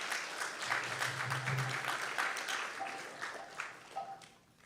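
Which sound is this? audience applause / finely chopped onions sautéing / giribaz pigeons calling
audience applause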